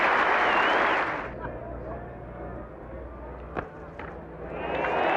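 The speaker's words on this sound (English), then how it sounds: "even the bowler is clapping the stroke and the century" A cricket crowd applauding a batsman's century at an England match in the 1980s: a broad wash of clapping that fades under commentary and then swells again at the end.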